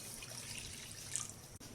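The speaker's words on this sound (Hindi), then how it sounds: "ये मैंने कढ़ाई ली, इसमें 2 गिलास पानी डालूंगी।" Two glasses of water poured into a kadhai (wok) for jamun sharbat, a faint steady trickle and splash running continuously, quiet and close.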